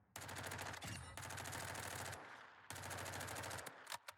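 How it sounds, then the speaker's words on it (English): Rapid automatic gunfire from a long-range shooting session in the video game Warzone: three sustained, loud bursts with brief pauses between them, alone with no talking. "when I'm shooting at a long range"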